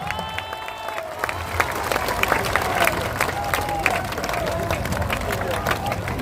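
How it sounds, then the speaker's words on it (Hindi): A political gathering crowd bursts into loud applause, many hands clapping in a dense wash with some cheering and crowd babble mixed in, building after a brief moment of voice at the start. "जोरदार ताली बजाइए।"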